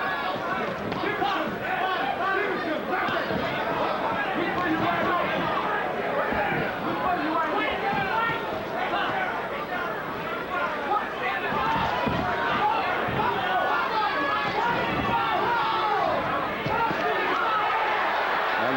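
A roaring arena crowd at a boxing match between James Toney and Michael Nunn, a dense, steady wall of cheering and shouting that swells and surges throughout, with a commentator's voice faintly under the din.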